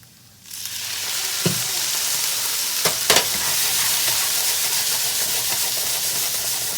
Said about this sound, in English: I'm gonna add about a tablespoon of balsamic vinegar.